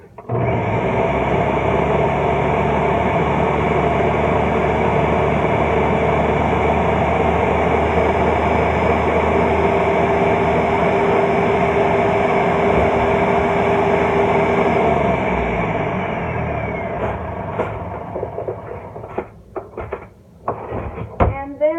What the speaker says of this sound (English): And then I just put it in my blender.